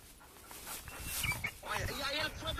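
Hunting dogs during a wild boar hunt, excited barking and yelping outdoors, several bursts at moderate distance, mixed with people talking.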